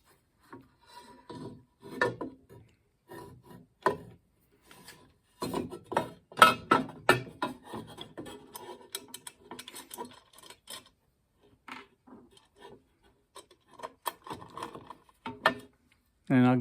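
Screws going into a CUTECH 8-inch cast iron table fence make short, sparse scraping and clicking bursts with quiet gaps between them, close by, ending in a sharp louder knock.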